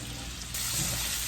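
Steady sizzling of chicken frying in a hot pan for jambalaya, a continuous hiss that swells slightly partway through.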